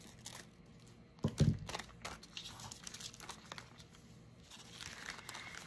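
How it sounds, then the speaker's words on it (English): Paper flaps are cut off a coffee filter envelope, giving a couple of close crinkling snips and rustles of thin paper, loudest in one brief burst, with soft handling noise around it. "Cut these little flaps off."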